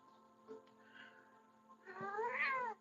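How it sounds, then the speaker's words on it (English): A cat meows in the background, a brief faint call early on and then a louder, drawn-out rising and falling meow near the end, with no talk over it. "And this cat here right now, too, you're going to hear in the background most likely."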